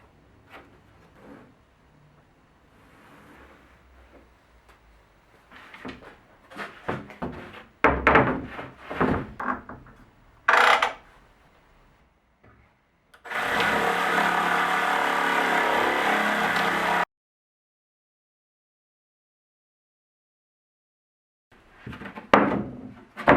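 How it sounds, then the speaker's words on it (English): A jigsaw cuts an opening in a wooden workbench cover plate, a loud rasping buzz lasting about four seconds after scattered handling knocks and thuds, followed by silence. "measure, mark, and cut. The fastest way to do this is with a jigsaw."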